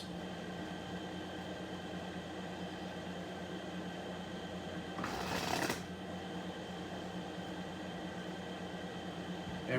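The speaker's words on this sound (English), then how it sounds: "The dealer shuffles his deck, or decks," A brief riffle of playing cards being shuffled by a blackjack dealer, a quick papery burst in the middle of a steady, quiet hiss of room noise.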